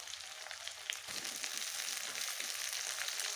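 Chopped tomatoes frying in a pan for a vegan jackfruit curry, giving a steady, close hiss of sizzling with faint stirring crackles throughout, no voices.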